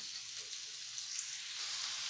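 Chopped large onion with green chillies frying in a pan for carrot rice, a steady close hissing sizzle that stays even throughout without any voices.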